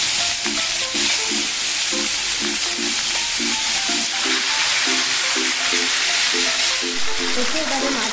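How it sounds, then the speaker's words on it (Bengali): Fish coated in salt and turmeric frying in hot mustard-style oil for a Bengali parshe fish curry, giving a steady dense sizzle throughout with a faint repeating tonal pattern underneath; no talking. "তেল গরম হয়ে গেছে, এবার আমি মাছগুলো ছেড়ে দিচ্ছি।"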